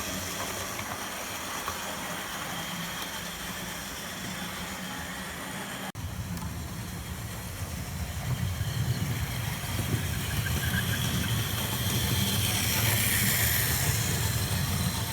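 A modified Hall model locomotive runs along a layout, a steady rumbling engine-like drone that swells louder in the second half as it draws nearer, with no talk.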